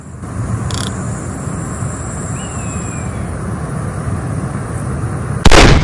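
Steady game ambience hums for several seconds before one sharp, loud gunshot cracks near the end in a shooting video game, with a faint earlier pop and no voices.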